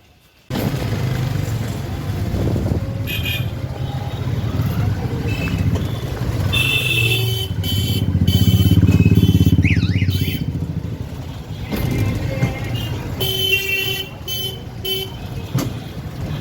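Riding a toto electric rickshaw along a road: a steady rumble of road and traffic noise that swells midway, broken by several short horn toots from nearby vehicles. No one speaks.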